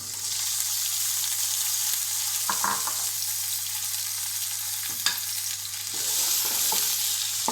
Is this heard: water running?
no